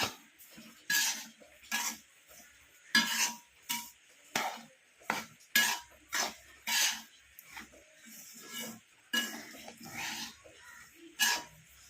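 A spoon stirs upma in a pan in a steady rhythm of about fifteen short scraping and clinking strokes, each a brief distinct burst separated by quiet gaps, close and clear.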